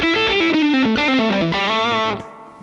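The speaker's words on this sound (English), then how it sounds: "I think you could probably hear, that's the reverb up full." A distorted electric guitar through a Mesa Boogie Mark I Reissue amp with reverb at full plays a descending run of notes that ring and smear together, then cuts off, leaving a brief tail.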